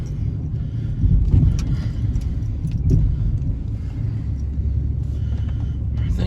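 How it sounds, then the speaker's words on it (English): An old pickup truck drives on a snowy farm with a loose-sounding thumping rumble, a heavy low drone with a few irregular knocks, close and continuous. "I've definitely got a thumping going on with the old truck"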